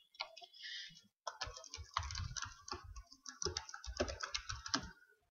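Fingers type login credentials on a computer keyboard in quick, dense bursts of clicking keystrokes, close and clear, with a brief pause between runs and no talking.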